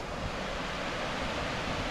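Water pours steadily over a large beaver dam on a trail near Ushuaia, making a constant, dense rushing wash with no other sounds.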